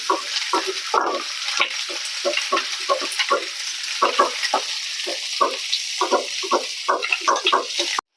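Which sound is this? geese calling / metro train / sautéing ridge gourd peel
sautéing ridge gourd peel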